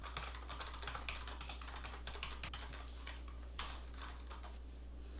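Fingers type a username and password on a computer keyboard in quick, uneven bursts of close, soft key clicks over a faint steady hum.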